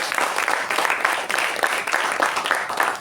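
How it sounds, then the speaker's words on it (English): Audience applause for speakers at a joint Toastmasters club meeting, a dense, even patter of many hands clapping throughout with no voices over it. "Big round of applause for Tanmay and Balaji."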